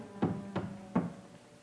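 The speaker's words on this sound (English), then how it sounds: "Raxel, answer the door. I don't want to be disturbed by anyone" Three knocks on a door in a dramatic television serial, sharp and fairly close, spaced unevenly over a quiet room tone with no talking.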